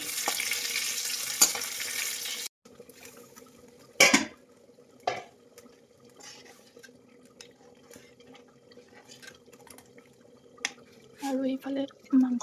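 Oil sizzles in a pan, a soft frying hiss with occasional clanks of a utensil and pan, while a voice speaks briefly nearby.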